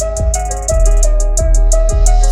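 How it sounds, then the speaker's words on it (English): Fast hi-hat rolls skitter over a loud looping beat, quick bursts of ticks sitting above a heavy sustained bass and a repeating melodic line, with no voices. "I added a couple of rolls in the hi-hats."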